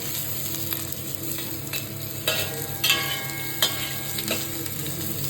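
Garlic, onion and capsicum stir-frying in oil in a pan, a steady sizzle with intermittent scraping and stirring clatters, close and moderately loud, no talking.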